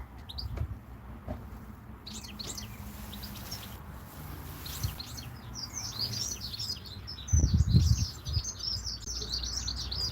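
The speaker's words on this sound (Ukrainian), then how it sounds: "У нас пташки співають, чуєте як?" Birds chirp and twitter repeatedly in the background, a busy, high song running throughout, with occasional low thumps and rustling nearby.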